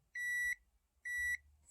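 A single-burner induction cooktop gives two identical electronic beeps after being repaired. The tones are clear and steady with a short gap between them, and there is no talking.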